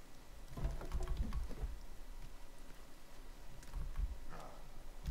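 Rain falls in the survival video game The Forest as a steady hiss with scattered soft thumps and patters. No one talks over it.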